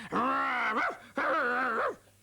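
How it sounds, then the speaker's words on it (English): Two drawn-out, throaty dog growl-barks in close succession, each rising then bending down at the end, loud and close. "when she was scared, she started growling and barking."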